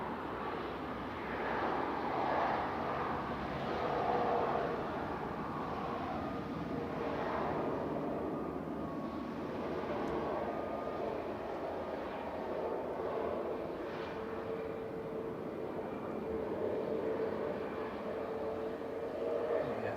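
A Ryanair Boeing 737 Max 8 operated by Malta Air rumbles at Manchester Airport as a broad, steady roar that swells and fades slightly over twenty seconds, heard from a distance with faint voices in the background.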